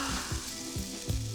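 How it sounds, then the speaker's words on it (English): Mushrooms sizzle on a garden barbecue, a continuous hissing crackle with a few soft stirring or shifting thumps, close and moderately loud, with no voices. "Now it's time to get them on the barbecue and get them sizzling."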